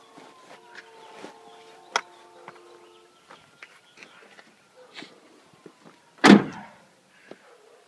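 The tailgate of a four-door Jeep Wrangler shuts with a single loud, sharp slam near the end, preceded by faint scattered clicks, rustles and handling noises.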